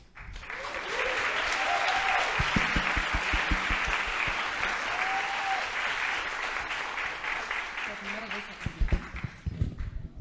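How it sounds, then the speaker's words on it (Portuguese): An audience applauds after Keiko's first public presentation at a company event: sustained, dense clapping from a sizeable group, steady throughout with a few louder, sharper claps near the end. "Palmas para a Keiko"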